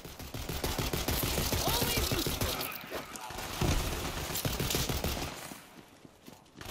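Rapid gunfire in the video game Borderlands 3, a busy stream of overlapping shots and thuds at moderate, fairly quiet level, with game voices talking over it.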